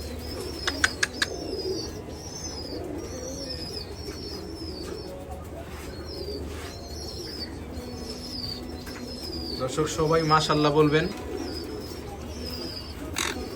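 Caged pigeons and birds at a farm, including double red factor sunconures, give scattered chirps and coos while wings flap in bursts, loudest near the end; a person speaks briefly in the clip.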